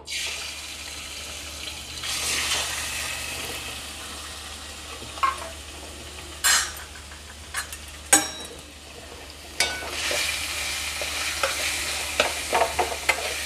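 Minced chicken keema is stirred in a pan of oil over medium gas, with continuous sizzling and a spoon scraping and knocking against the metal in irregular strokes, close and clear, without speech.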